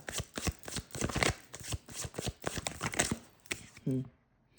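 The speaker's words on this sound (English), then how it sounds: "I'm just going to shuffle more, see what else wants to come out." Tarot cards being shuffled by hand in a steady run of quick papery riffles and slaps, close and fairly loud, with a brief voice at the very end.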